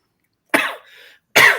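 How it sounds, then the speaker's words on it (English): A man on a live Indiana Jones podcast coughs twice, sharp and close, after a cough drop irritates his throat, with a brief raspy throat-clearing sound between the coughs and silence around them. "I had a cough drop in me, and now it's making me cough."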